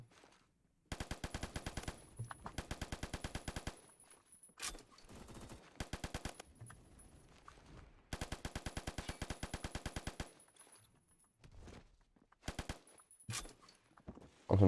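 An M60 light machine gun fires in the video game Phantom Forces in several long sustained bursts of rapid automatic shots, separated by short pauses and a few single shots. The fire sounds loud and close.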